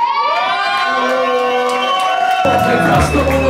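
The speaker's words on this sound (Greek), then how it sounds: "Μια χειροκρότημα για το κάμερα πάνω στον Τίτο" Crowd at a live street rap show cheering and shouting for the camera, a loud continuous roar of voices with whoops rising over music.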